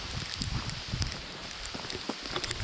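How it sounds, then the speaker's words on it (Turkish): Heavy rain falls on someone walking outdoors in Düzce on the way to Kardüz Plateau, a steady close hiss with soft irregular thuds and patters and no talking. "bayağı yağmur yağıyor yani şu anda"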